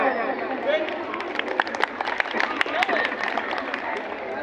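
Students at an intra-school football and kabaddi championship clap for a visiting guest, scattered claps mixed with crowd babble and voices, with a few sharper individual hand strikes standing out.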